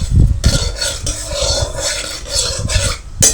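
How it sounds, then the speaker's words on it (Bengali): Whole cumin seeds fry in a little white oil in a wok, giving a continuous close sizzling hiss with scraping stir sounds and one sharp knock near the end. "জিরেটাকে একটু ভাজা ভাজা করে নিলাম তেলের মধ্যে"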